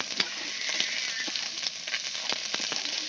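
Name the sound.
ginger and turmeric frying in oil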